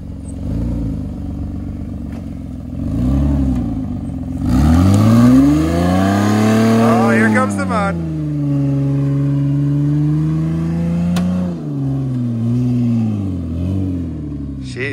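A Ford Freestyle with all-wheel drive revs and strains up a slick, snowy slope, its engine note rising and falling loudly and close, with a brief spike of clatter partway through.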